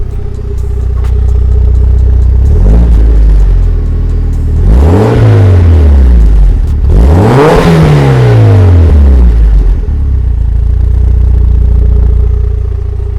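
A Mitsubishi Lancer Evolution IX engine with a Greddy Evo 2 aftermarket exhaust revs hard twice, each surge climbing to a loud throaty roar then dropping back, over a rumbling idle, close by.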